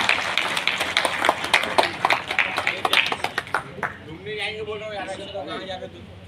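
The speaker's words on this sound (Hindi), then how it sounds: "इसलिए जोरदार ताली।" Audience applause at a meeting of Chhattisgarh daily-wage employees, a steady patter of many hands clapping that fades after about four seconds as a voice starts speaking.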